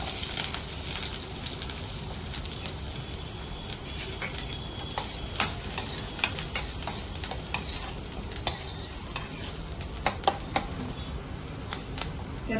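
Chopped onion frying in hot oil for masala Maggi noodles, a steady close sizzle with sharp ticks and scrapes from the spoon as it is stirred, continuing alone throughout.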